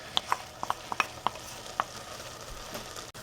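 Chopped onion and celery fry in a pan with a quiet, steady sizzle, broken by several light clicks and pops near the start, fairly soft overall.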